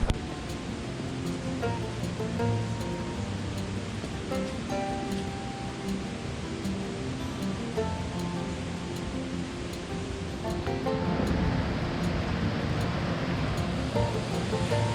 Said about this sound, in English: here's another great example of a waterfall